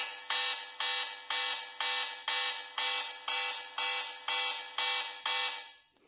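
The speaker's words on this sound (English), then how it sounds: "It got alarm bell" The built-in alarm bell of a Power Armor 1 rugged smartphone rings in loud, regular electronic bursts, about ten evenly spaced pulses with brief gaps between them, then it stops abruptly.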